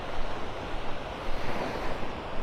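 Surf rolls over a sandbar as the tide ebbs at Delnor-Wiggins beach in North Naples, Florida, on a morning walk: a steady, close, broadband wash of breaking water with gentle surges, mixed with some wind rumble and no talking.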